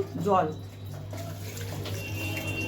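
Water pouring into a pressure cooker holding potatoes and kabab ingredients, a steady close splashing rush while someone talks over it.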